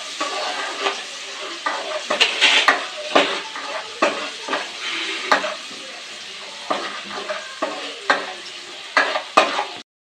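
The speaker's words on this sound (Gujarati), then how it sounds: "હિંગને હલાવી પછી એમાં આપણે એડ કરશું લીલું લસણ. ગેસની ફ્લેમ થોડીક ધીમી કરી દઈએ એટલે કે લસણ બળે નહીં." Green garlic and asafoetida sizzle in hot oil in a pan, a steady frying hiss broken by repeated scrapes and clinks of a spoon stirring against the metal, close and fairly loud with no talking.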